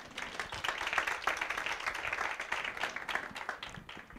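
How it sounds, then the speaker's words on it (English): Audience applause at a book launch, a steady, fairly distant patter of many hands clapping that holds evenly for several seconds. "Please give her a round of applause."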